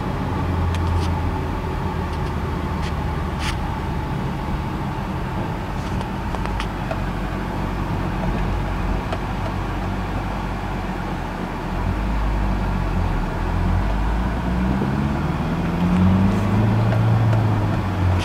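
A Ford Focus SVT ZX3 hatchback idles while warming up, giving a steady, continuous low engine rumble with a faint hum throughout and no revving.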